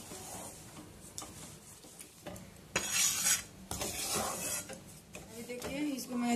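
Besan laddoo mixture with sugar and dried fruit stirred in a pan with the gas off, with repeated metal spoon scrapes and clinks against the pan at a steady, close, moderately loud level.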